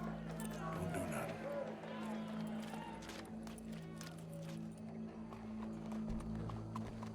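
Horse hooves clip-clopping in Red Dead Redemption 2, a steady run of hoofbeats under a constant low hum of game ambience, with a crowd murmuring faintly in the background.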